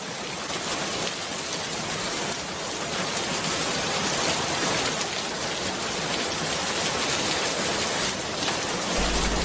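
Heavy rain falls on an animated village as a constant, dense hiss that stays steady and fairly loud throughout, with no voices over it.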